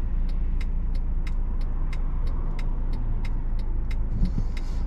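Car driving in traffic, a steady loud road and engine rumble with regular faint ticking over it, heard up close with no talking.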